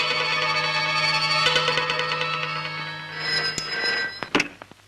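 Old-style telephone bell ringing for a trunk call from Singapore, a sustained metallic ring that stops, followed by a handset being picked up with a few clunks.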